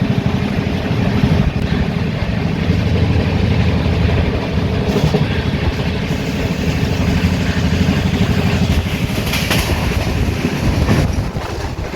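The Azad Hind Express, on its Howrah to Pune run at about 130 km/h, gives a loud, steady roar and rumble with faint rhythmic wheel clatter, heard from inside the carriage with no talking.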